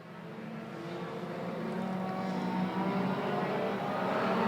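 Pure stock race cars roaring past on an oval raceway, engines building steadily louder as the pack approaches, a continuous droning, revving rumble with no talk.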